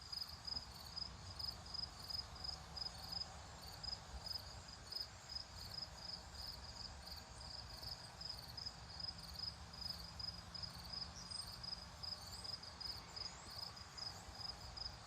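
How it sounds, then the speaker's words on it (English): Crickets chirp steadily in a pulsing, continuous chorus on a late-September fall evening, a high repeating trill over soft outdoor ambience, fairly faint with no voices. "Listen to the crickets"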